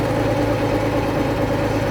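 A 1935 Renault TN4F bus engine runs with a steady, loud, low rumble and a rhythmic throb, heard up close with no voices.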